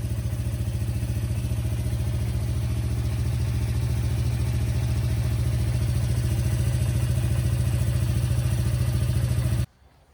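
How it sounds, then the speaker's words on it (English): A Polaris Hawkeye 300 ATV engine runs steadily up close in a garage, a loud continuous idle with a pulsing low drone that holds for about nine and a half seconds and then cuts off abruptly. "So we ran the engine for about 30 seconds."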